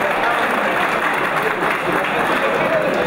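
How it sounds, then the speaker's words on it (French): Audience applauding a DJ duo at a Berlin integration tournament event, a dense steady wash of clapping and crowd noise filling the full three seconds without letup. "Vos applaudissements s'il vous plaît."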